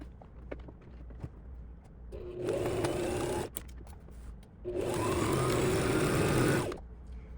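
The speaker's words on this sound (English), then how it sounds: "I am, of course, using a straight stitch on this machine." A sewing machine runs a straight stitch in two bursts of steady, fast whirring, each lasting about two seconds with a short pause between, heard up close in a quiet room.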